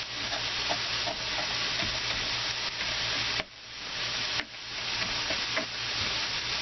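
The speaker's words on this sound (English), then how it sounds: "Smell that sausage starting to cook." Spicy hot sausage fries in a pan in a continuous close, loud sizzle, stirred now and then, with two brief dips where the hiss drops before it resumes.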